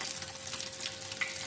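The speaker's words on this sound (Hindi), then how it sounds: "ऑयल में हम कबाब को फ्राई कर लेते हैं।" Egg-dipped chicken kebabs frying in hot oil, with a soft continuous sizzle and faint crackle throughout, steady and fairly quiet at close range, with no voices.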